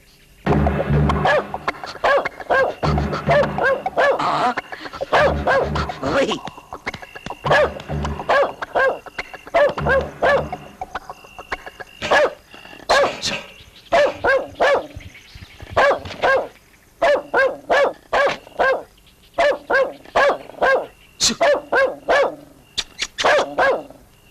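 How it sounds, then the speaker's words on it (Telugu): A dog barks loudly and repeatedly near an outhouse, firing irregular clusters of sharp barks with brief pauses between them throughout. "ఏంటి కుక్క అక్కడ అరుస్తుంది?"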